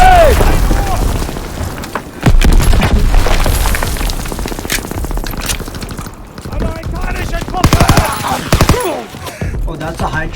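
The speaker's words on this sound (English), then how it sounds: "Throw the grenade!" Grenade blasts and gunfire in the D-Day mission of Call of Duty WW2, loud booms and crackling shots in a chaotic battle with shouting voices throughout.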